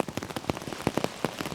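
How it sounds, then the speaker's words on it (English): Rain pattering on a fishing boat in the Florida Keys, with irregular close drops and splashes tapping at an uneven rhythm, no voices. "this rain was quickly dampening my hopes"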